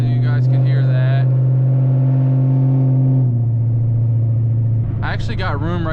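Dodge Challenger SRT8 with an SLP Loudmouth exhaust, a steady deep engine drone that drops in pitch midway, with someone speaking over it near the start and end.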